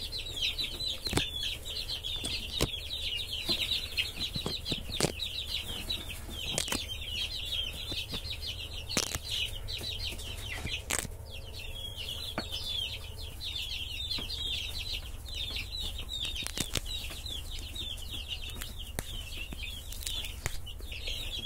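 Young chicks peeping in a shrill, rapid, continuous chorus, joined by intermittent sharp taps and wing flutters, steady and fairly close throughout.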